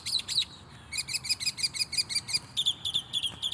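Morning birdsong around Sugar Land and Stafford: repeated bright, high chirping phrases in quick rhythmic bursts, fairly close and clear over a faint outdoor hush, with no voices.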